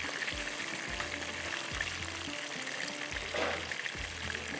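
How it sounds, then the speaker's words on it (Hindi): Chicken pieces frying in a pan for chapli burgers, a steady close crackling sizzle with soft scraping and stirring knocks, no voices. "अब चिकन को फ्राई करेंगे, थोड़ा सा अच्छा सा फ्राई हो रहा है"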